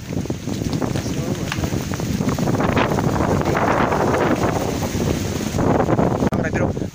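Strong typhoon winds from Typhoon Odette buffet the microphone in heavy, roaring gusts, with a voice speaking over the storm noise.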